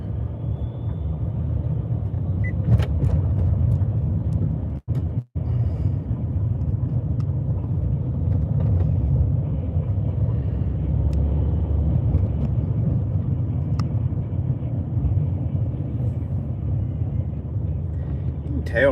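A car cruising westbound on the I-24 interstate between Chattanooga and Nashville, its steady low road and engine rumble continuous and close throughout, with a brief dropout midway and people talking over it.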